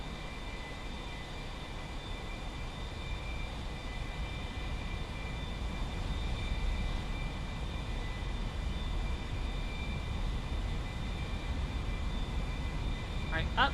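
A video game aircraft engine runs at full throttle on the takeoff roll, a steady, droning roar that holds for the whole stretch, with voices talking over it.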